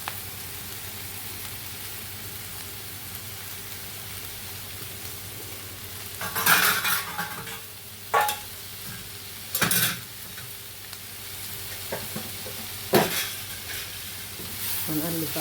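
Minced meat with garlic sizzling in a pan, with a steady low frying hiss broken by several louder bursts of stirring and scraping as the mix is turned, no talk over it.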